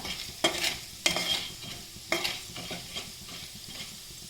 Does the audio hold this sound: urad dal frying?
yes